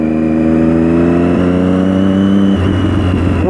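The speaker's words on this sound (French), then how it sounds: "Le son du 3 cylindres, c'est magnifique." A Triumph 675R Daytona three-cylinder sport motorcycle engine revs loud and close, its harmonic note holding steady before dropping sharply in pitch partway through as the revs fall away, with no voices present.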